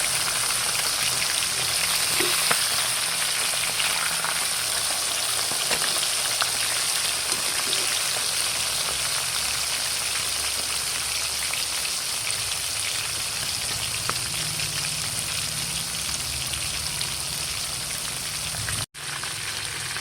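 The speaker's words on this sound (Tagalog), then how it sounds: "Ito pong aking piniprito." Pakoy fish fries in hot oil in a pan, a steady, dense sizzle and crackle that hisses evenly throughout, with no talking.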